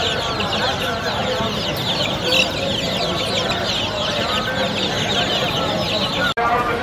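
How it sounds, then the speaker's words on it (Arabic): Several chickens and a rooster cluck and chatter continuously at close range at a market, with a busy background of other birds and occasional voices. "هذا الديك وهاي الدجاجة."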